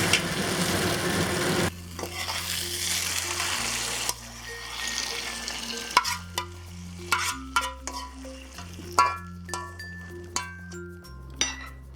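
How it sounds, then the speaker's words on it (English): Beef and bitter melon stir-fried with black bean sauce: a sizzling wok is tossed and scraped with clattering utensil hits in irregular bursts, while soft background music plays beneath. "Let's return the beef. And toss this for about 30 seconds, and it's done."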